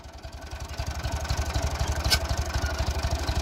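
A Massey Ferguson MF 135 tractor engine idles while reversing at a tractor obstacle-course competition, a steady close putter of rapid regular low beats with a loose mechanical clatter over it.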